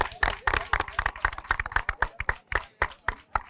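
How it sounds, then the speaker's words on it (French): Scattered clapping from an audience at a regional football tournament event, with uneven individual claps in a loose, irregular rhythm, fairly close and distinct rather than a dense ovation. "ce flux d'applaudissements que vous venez de faire"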